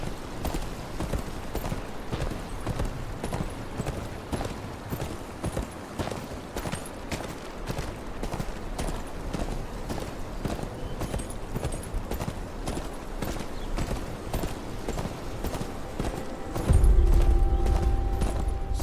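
Steady clip-clop of horse hooves walking at an even rhythm throughout in the video game Game of Thrones Kingsroad, with a louder mechanical clunk near the end.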